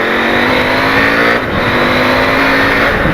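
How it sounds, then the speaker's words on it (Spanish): A KTM 890 Adventure motorcycle fitted with an aftermarket AliExpress exhaust, engine revving hard and loud while riding, with a steady rough drone and a brief dip between pulls. "Es una delicia cómo suena ahora esta moto."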